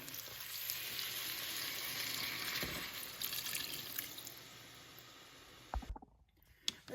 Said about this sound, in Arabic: تو نحط عليها الميه